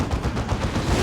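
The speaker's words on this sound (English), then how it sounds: "Nagual's Predator tank taken out by Las Cannon Predator of Swagga" A Predator tank in Dawn of War 2 is destroyed by lascannon fire, heard as a dense, loud roar of blasts and crackling impacts that fills the whole moment with steady, booming noise.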